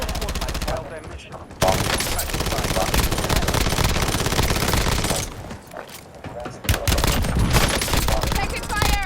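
Machine gun fire in Call of Duty, dense bursts of rapid shots close and loud, with a short lull between volleys and one brief pause near the start.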